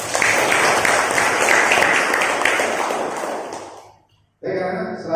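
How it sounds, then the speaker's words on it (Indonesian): Classroom students applaud together in a loud, dense burst that carries for about four seconds, stops abruptly, then resumes briefly after a short silence. "tepuk tangan untuk kalian semua."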